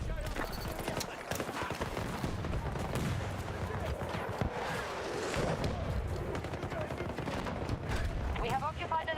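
Gunfire from a shooter video game, with bursts of rapid shots and thuds running under continuous talk across the whole stretch.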